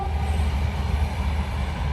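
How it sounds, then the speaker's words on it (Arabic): Large passenger train rolling past on the way to Al-Hamzah district, a steady, loud, continuous low rumble with rail noise, close by and heard alone without voices. "هذا قطار مسافرين، شوفوا لان بغرف وكبير ما شاء الله"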